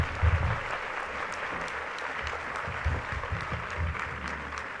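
Audience applause at a tribute ceremony honoring Dr. Pablo Sandoval Cruz at the IPN, a steady wash of many hands clapping throughout, with a few louder bursts near the start.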